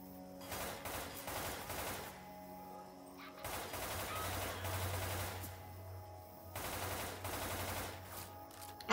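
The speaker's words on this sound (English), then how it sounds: "Good thing I got the sniper rifle." Rapid gunfire bursts in Left 4 Dead 2, a sniper rifle among the weapons, cracking out in dense volleys that pause briefly near the middle and end, loud and close with no talk over it.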